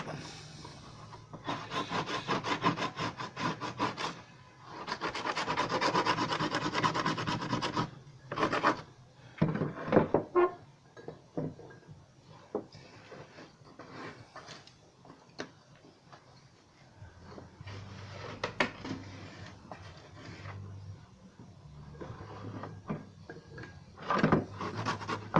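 A paint scraper rasps across a wooden surface, stripping off old paint in bursts of harsh, gritty strokes, some long and sustained, others short and choppy, close by with brief pauses and light knocks between passes.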